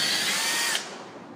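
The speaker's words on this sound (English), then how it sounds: "don't pull out the drill. You wanna trigger it so that it's easier to pull out like this." A power drill spins at full speed with a steady high whine as the running bit is drawn out of its hole, then winds down abruptly near the end.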